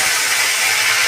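Eggs sizzling in hot oil in a wok for an egg curry, a loud steady bright hiss of frying with no voices.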